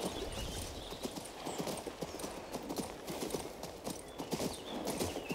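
Steady horse hooves clip-clopping at a walking rhythm in the video game King's Bounty II, close and continuous with no voices over them.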